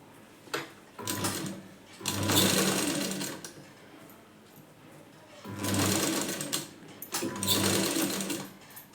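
A sewing machine stitches a size 36 blouse in two long runs of steady mechanical whirring, each a few seconds long, separated by a short pause. The machine is close and clear, and no one speaks.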